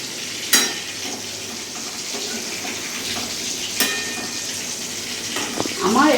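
Food fries over medium heat in a kitchen pan, giving a continuous moderate sizzle with a few sharp clatters of utensils, close by and without talk.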